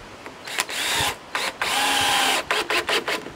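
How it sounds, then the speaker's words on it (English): Power drill driving screws into wooden roof trusses, several loud close bursts of whining motor, one long run and a series of short quick pulses at the end. "I'm gonna put a few screws in it."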